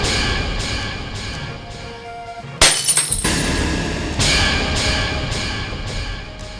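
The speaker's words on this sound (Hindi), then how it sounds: "जब सीन के दौरान रजत के हाथ से शीशा टूट गया।" Glass shatters on a TV serial set as it breaks in an actor's hand, a sudden loud burst of crashing shards around the midpoint, with a steady hum of room noise before and after.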